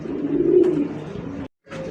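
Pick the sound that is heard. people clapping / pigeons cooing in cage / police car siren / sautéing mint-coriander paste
pigeons cooing in cage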